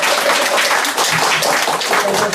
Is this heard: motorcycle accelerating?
no